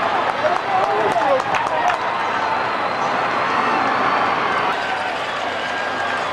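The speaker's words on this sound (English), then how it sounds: "Everybody's screaming and hollering." A baseball stadium crowd at a World Series game between the Atlanta Braves and Cleveland Indians screams and hollers in a loud, continuous roar, with an announcer talking over it.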